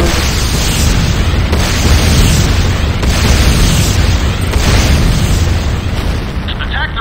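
A Nod structure is blown apart in the game Renegade, a loud, sustained rumbling roar of explosions and debris lasting several seconds, with surges and a few sharper bursts toward the end.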